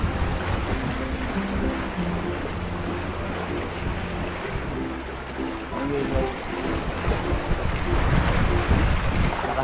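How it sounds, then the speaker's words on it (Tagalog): Steady roar of sea surf and strong gusting wind, loud and continuous, with a low rumble underneath and no pause throughout. "Lakas yung alon tsaka hangin."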